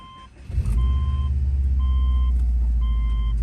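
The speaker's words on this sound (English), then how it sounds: "So now we're gonna turn the car on and let it run for about 5 minutes." A car engine being treated with an engine flush cranks and catches, then settles into a steady, close, low idle rumble, while a repeating electronic warning chime beeps in regular bursts over it.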